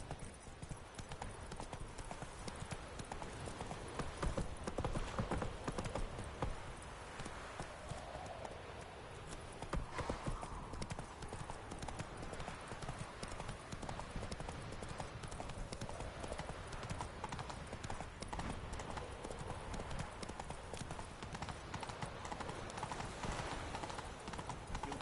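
Hooves of the horse Roach clip-clop in a rapid, steady galloping rhythm in a video game, faint and continuous with occasional quiet voice.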